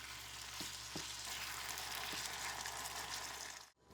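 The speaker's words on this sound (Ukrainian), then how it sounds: "Будемо смажити наш фарш зі спеціями до золотистого кольору." Steady crackling sizzle of minced meat with spices frying in a hot pan, with a few soft stirring knocks, continuous and close, then a brief cut at the end.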